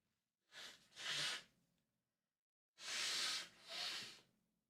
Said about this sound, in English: I think you can definitely withstand the sounds of cleaning the nose up.